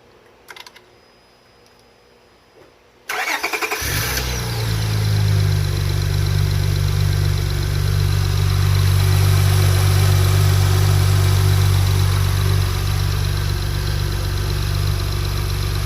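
A 2004-2008 Acura TL engine after PCV valve replacement is quiet at first, then cranks and starts around the three-second mark. It settles into a loud, steady, smooth idle that carries on to the end.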